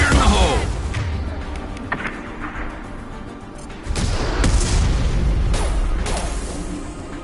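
A grenade goes off in the Mass Effect 2 shooter amid a firefight, with several sharp booms and gunfire bursts rattling close, and a heavier blast midway through the chaotic combat.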